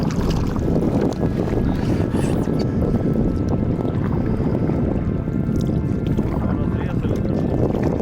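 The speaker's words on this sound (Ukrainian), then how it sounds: "катер тільки що прийшов, підняв хвилення" Water sloshes and splashes against a hull in choppy waves raised by a passing motorboat, with wind buffeting the microphone throughout.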